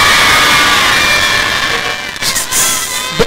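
A church congregation shouts hallelujah loudly together, a sustained roar of many voices that swells and fades, with a few scattered cries at the end.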